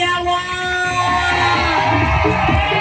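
Filipino local event crowd cheering and shouting for Congressman Ding Asisio, a dense, continuous wall of voices and whoops under a steady tonal hum, loud and sustained throughout.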